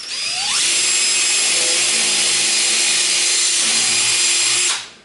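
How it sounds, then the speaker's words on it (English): A power drill with a 1/2-inch bit whines at high speed for about four seconds, drilling a pilot hole in a rubber Harley-Davidson handlebar grip, starting abruptly and winding down at the end, alone and close by. "I'm going to use a 1/2-inch drill bit and drill a pilot hole in there."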